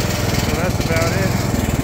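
A Bolens ride-on lawn mower engine idles close by, a steady, throbbing low rumble with an even pulse, loud and continuous for a couple of seconds, with a voice faintly over it.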